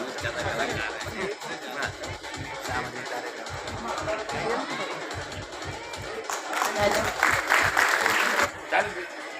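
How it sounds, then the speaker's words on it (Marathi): An audience at a municipal corporation felicitation and prize ceremony in Ulhasnagar applauds steadily throughout, with the clapping swelling toward the end. An announcer speaks over it the whole time. "सर्वांनी टाळ्या वाजवाव्या प्लीज"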